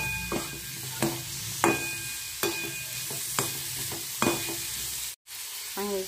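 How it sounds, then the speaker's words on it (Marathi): Finely chopped tomatoes are sautéed in a pan, a steady sizzle punctuated by regular scrapes of a spatula roughly every half second, with a brief drop to silence near the end. "नंतर यामध्ये हे बारीक चिरलेले टोमॅटो टाकून द्यायचे आणि हे छान परतून घ्यायचे।"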